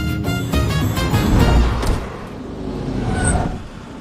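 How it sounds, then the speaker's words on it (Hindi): A car drives along with a close, rumbling engine and road noise that eases off slightly as it slows toward a stop. "तुम गाड़ी रोकोगे जरा?"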